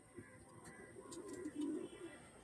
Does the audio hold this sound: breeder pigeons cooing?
yes